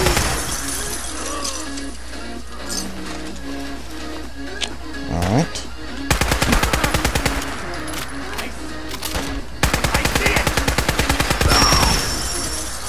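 Gunfire in Fallout 4 during Far Harbor exploration: scattered shots early, then two long bursts of rapid automatic fire, loud and close, with game ambience and some talk over it.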